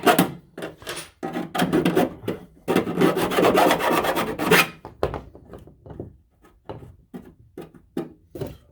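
Rasping strokes deburring the back side of a freshly cut edge during trailer brake wiring work in a van build, dense scraping at first, then slower separate strokes, close and without voices.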